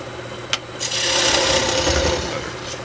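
Half-inch bowl gouge cutting a spinning cherry wood bowl on a lathe: after a brief knock, a steady, loud rasping scrape of the tool on the wood holds at close range, over a constant motor hum.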